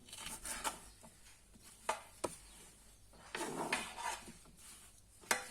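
A knife chops through fresh fava bean pods on a board in a kitchen, giving irregular crisp cuts and soft thuds with rubbing between them, close and fairly quiet with no talking.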